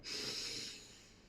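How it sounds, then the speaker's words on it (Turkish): A single slow, deep breath drawn in through the nose during a seated breathing exercise, a soft close hissing inhale that swells quickly and then tapers off, with no talking. "kocaman burnunuzdan derin bir nefes alıp"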